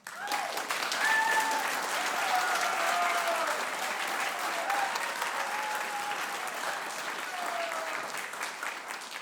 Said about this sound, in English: big thank you and a big round of applause